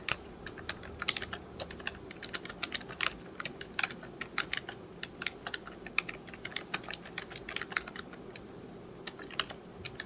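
Keys clatter on a computer keyboard during an online typing test in rapid, irregular bursts of crisp clicks. The typing is close and fairly quiet, and it continues without pause.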